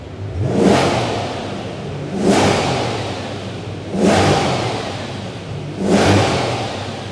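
A Corvette Stingray C8's naturally aspirated engine revs four times in even succession, each rev swelling loud then falling away, with a deep, raspy tone.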